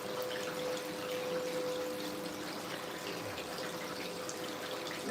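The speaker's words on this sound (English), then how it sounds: "I'm just gonna flush it out and try to get the water cleaner so you guys can see better." Water flushes steadily through gold prospecting equipment as a continuous, fairly loud rushing wash with a faint steady hum under it, no voices, unbroken for five seconds.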